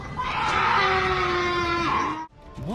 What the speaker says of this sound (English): many have said that the source of the sounds is only a mountain lion